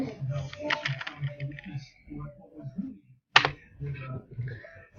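Computer keyboard typing comes in soft, scattered clicks under and between a person's talking nearby.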